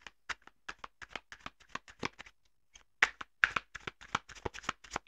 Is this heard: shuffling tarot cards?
yes